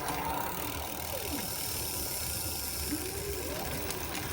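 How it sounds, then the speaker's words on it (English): The electric pedal-assist motor on a fat e-bike kicks in with a rising and falling whine over a steady mechanical ratcheting of the turning crank and drivetrain. "You can hear the electric motor kicking in."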